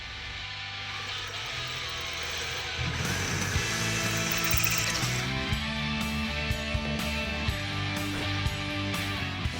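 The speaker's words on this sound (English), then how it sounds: "now we're going to switch over to a left-handed drill bit" Hand drilling with a left-handed drill bit into a classic Chevelle body panel in a shop, a steady whirring motor note that grows louder partway through, with a few faint clicks over a constant background hum.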